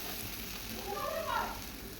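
Spices frying in oil on low heat while being stirred in a pan, a soft steady sizzle with faint scraping movement, quiet and close, no talk over it.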